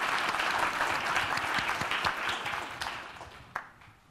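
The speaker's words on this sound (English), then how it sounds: "Please, everybody, give them a hands of applause." Audience at a C++ and Visual Studio 2017 conference session claps in a dense burst of applause that starts full and gradually fades over about four seconds, with a few stray claps at the close.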